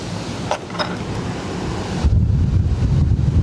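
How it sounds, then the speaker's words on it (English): Strong wind buffets the microphone at Barcelona airport, with a steady roar that grows into heavier low rumbling gusts partway through. "it's quite windy now."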